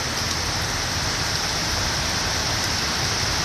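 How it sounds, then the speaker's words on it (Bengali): Heavy rain pours steadily in Gazipur, a dense, unbroken hiss of drops on surfaces that stays even and fairly loud throughout, with no voices. "গাজীপুরে বৃষ্টি হইতেছে এখন"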